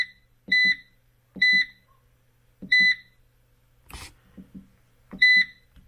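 A DAXTROMN POWER AGH-10.2KW dual-MPPT solar inverter gives repeated pairs of sharp electronic beeps about once a second, close and loud, with a brief clatter partway through.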